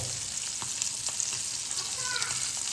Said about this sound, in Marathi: पापलेट फ्राय करते